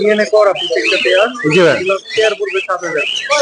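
Many caged birds, including lovebirds and parrots, chirp and tweet busily at a Mirpur bird market, a dense close chorus of overlapping calls and whistles with voices mixed in.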